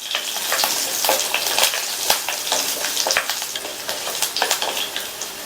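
Chopped ginger and peeled garlic cloves sautéing in a pan for a gobi peas masala, a loud, bright, continuous sizzle close by with quick, repeated scraping stirs throughout.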